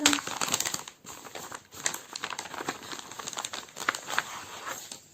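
A cross-stitch kit package is handled and opened up close, giving bursts of crinkling plastic and rustling wrapper with short pauses between, fairly quiet and without speech.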